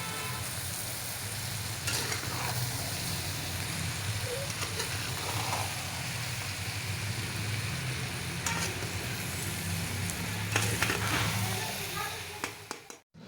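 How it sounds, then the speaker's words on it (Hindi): Aloo gobi, potatoes and cauliflower, fries in a pan over a normal flame with a steady close sizzle and occasional stirring scrapes, a voice talking over it. "इसको 2 मिनट नॉर्मल आंच पे भून लेंगे हम"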